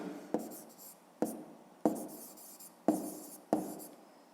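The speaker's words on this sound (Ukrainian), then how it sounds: "Пишемо 7 чисел" Writing numbers by hand on paper makes soft scratchy strokes in five distinct bursts, each starting with a tap, close and quiet with no voices.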